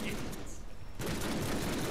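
Gunfire in the Deadpool video game, a dense rapid burst of shots that cuts out briefly and then resumes loud and close, with no one talking.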